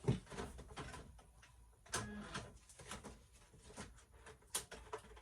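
A Silhouette Cameo 2 cutting machine takes in a taped cutting mat, with a few sharp mechanical clunks and rattles over a low hum, close by and fairly quiet.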